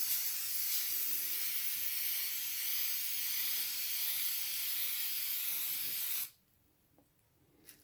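A steady, broad hiss of an aerosol can spraying K&N air filter oil continuously for about six seconds, close up, then cutting off into near silence.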